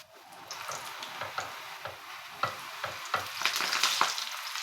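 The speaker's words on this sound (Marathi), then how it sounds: "आपण हे परत एकदा तळून घेऊया." Food deep-fries a second time in hot oil, a close crackling sizzle punctuated by repeated sharp stirring clinks and scrapes, growing busier toward the end.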